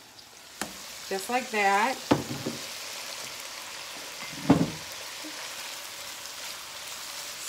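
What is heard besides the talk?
rinsed keto noodles sautéing in a pan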